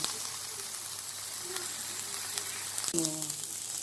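Fried rice cooking quickly in a hot pan gives a steady, quiet sizzle throughout, with a brief louder scrape or stir near the end.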